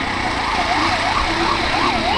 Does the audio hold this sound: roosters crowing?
no